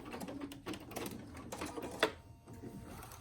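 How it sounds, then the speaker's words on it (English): A sewing machine backstitches over the ends of a face mask, a faint, rapid run of mechanical clicks and taps in short bursts with a few brief pauses, close by and quiet, with no speech. "I backstitch over the ends just to secure it."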